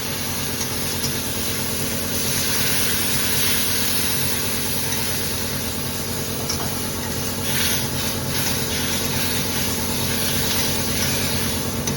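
Water poured into spiced masala that has been fried down in hot oil sets off a loud, steady, broad hiss of sizzling and spitting that runs on evenly throughout with no talk.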